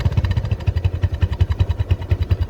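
Close by, a Bajaj Discover 135 motorcycle idles with a steady, rapid low thumping pulse that stays even and fairly loud, with no talking.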